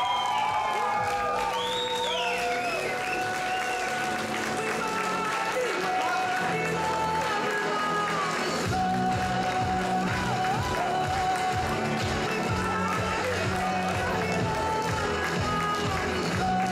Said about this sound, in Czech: ještě jedno velký potlesk, třídní učitelka Marie Drápelová